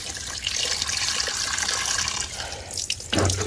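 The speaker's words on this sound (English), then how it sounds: "Gonna add some water to this tray." Water pours steadily into a greenhouse plant tray holding young seedlings, a continuous splashing flow that is close and fairly loud, with a brief heavier gush near the end.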